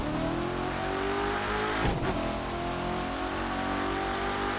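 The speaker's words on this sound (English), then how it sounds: "it sounds so good downshifting" A car engine revs steadily in The Crew 2 driving game, played with a Fanatec CSL Elite wheel, then drops with a brief downshift blip before rising again. It is loud and continuous with no talk.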